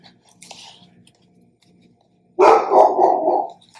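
A dog barks loudly nearby indoors, a dense burst of barking lasting about a second after near silence and a faint earlier sound.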